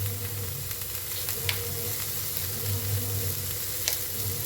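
Chopped onion and ginger sizzle and fry steadily in a hot pan, a continuous close hiss with faint stirring scrapes and no talking.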